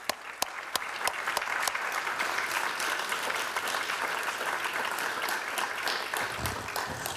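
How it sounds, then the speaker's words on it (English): Applause at an awards ceremony for Richard Lowenthal, marking his final CREST Award. A full room claps loudly and steadily, with a few sharp individual claps standing out near the start. "Please join me in giving Richard a round of applause."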